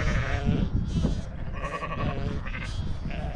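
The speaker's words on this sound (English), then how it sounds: "Some sheep, eh?" Several sheep bleat repeatedly in an outdoor field during lambing season, with overlapping calls at close to moderate distance over steady wind and background noise.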